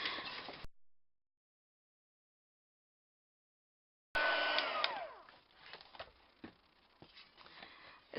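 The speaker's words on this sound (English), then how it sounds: "And then I'm going to heat emboss it." Heat gun blowing while heat embossing a craft card, a whooshing blast that cuts off into silence for several seconds, then starts again and fades with light tapping sounds.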